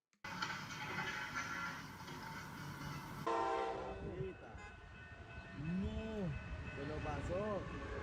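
Train horn blasts loud and near, its rising-and-falling tones sounding repeatedly over the rumble of a passing train, with voices talking over it.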